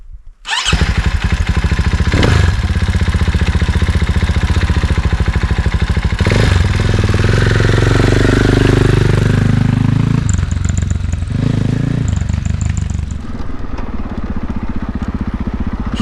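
KTM 500 EXC-F dirt bike engine ridden off-road, loud and close, holding a steady throaty drone with revs rising and falling and a brief drop as the throttle eases.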